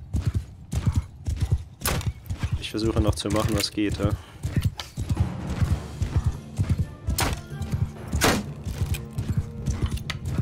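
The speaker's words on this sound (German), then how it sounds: "diese 40 Kavalleristen, die da auf mich zureiten" Cavalry horses gallop through a medieval battle in the video game Mount & Blade 2 Bannerlord, with dense clip-clopping hooves and occasional neighs throughout, loud and close, under someone talking excitedly.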